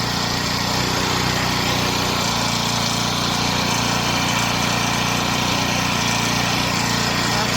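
A Chinese mini bike engine running steadily just after its first start, a loud continuous small-engine drone with an even, buzzing idle and no speech over it.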